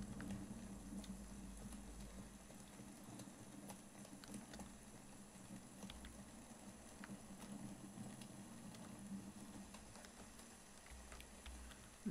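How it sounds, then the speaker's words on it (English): Hail falls steadily in a video game, a faint, dense, continuous patter of small ticks spread across the whole stretch with no talking. "It's now hailing, because of course it is."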